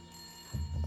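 A telephone rings faintly indoors in a short electronic burst over low room hum, with no talk.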